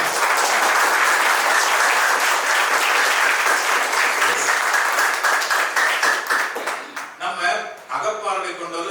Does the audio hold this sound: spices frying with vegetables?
no